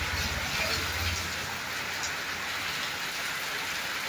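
Heavy rain falls steadily in Rajbari, a dense, even hiss of drops striking surfaces that stays constant throughout with no voices.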